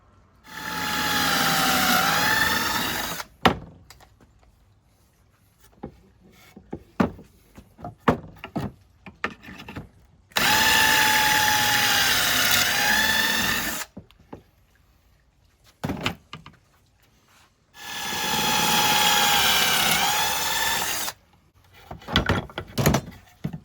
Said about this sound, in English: I could drill the table up there